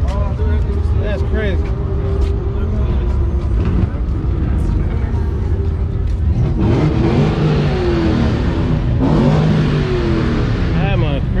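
A souped-up minivan's engine revs hard among cars at a Cars & Coffee gathering at Nashville Superspeedway, the rising engine roar swelling in bursts beneath steady excited chatter from nearby people.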